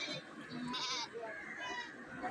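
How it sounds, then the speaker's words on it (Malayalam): Young goats bleat a few times at a busy livestock market amid crowd noise and background voices. "ഇവിടെ കൊച്ച് ആടുകൾ ഇതായി ഈ ഭാഗത്ത് നിൽപ്പുണ്ട്"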